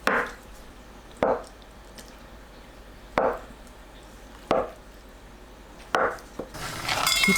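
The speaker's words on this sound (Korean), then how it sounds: "두부를 썰어서 준비합니다" Knife chopping tofu on a cutting board in a home kitchen: five distinct, evenly spaced chops, each a soft, damp thud against the board, with quiet pauses in between.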